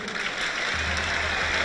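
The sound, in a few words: crowd applauding the final wrestlers at Kırkpınar oil wrestling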